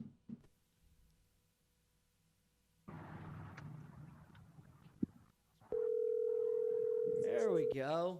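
A telephone dial tone sounds from a phone as a call is placed, a steady loud continuous tone lasting a couple of seconds, preceded by rustling handling noise and followed by a voice.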